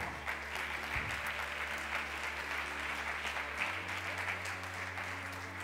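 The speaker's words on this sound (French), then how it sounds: "Alors on peut l'applaudir bien fort." Audience applause at the E-Commerce Awards 2014 ceremony, a sustained, even wash of clapping from a sizeable crowd in a hall, steady for the whole clip with a faint low hum underneath.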